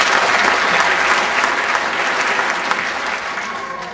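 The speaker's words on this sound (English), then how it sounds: "Please give these exceptional soldiers another round of applause" Sustained applause from a large audience at an Army basic training graduation ceremony honoring new soldiers, dense steady clapping filling the hall throughout and easing slightly toward the end.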